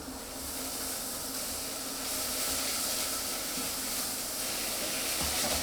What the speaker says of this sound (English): Give my veg a bit of a stir